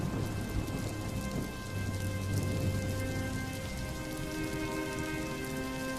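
Steady heavy rain pours onto a courtyard during a storm, with low thunder rumbling underneath, a continuous dense wash of drops with no talking.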